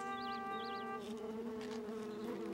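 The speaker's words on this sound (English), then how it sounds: "He means that bee buzzing all over the flowers." A bee buzzes around flowers in a steady, droning hum with wavering pitch, close and continuous under a faint warbling electronic tone in a children's show, with no talking.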